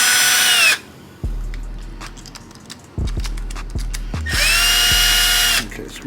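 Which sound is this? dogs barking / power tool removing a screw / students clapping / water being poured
power tool removing a screw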